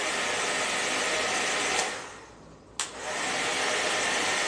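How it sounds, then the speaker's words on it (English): A hair dryer fitted with a diffuser blows on hair in a loud, continuous rush of air that dips briefly in the middle, then comes back with a click and carries on steadily. "And then what I do is I go in with my diffuser"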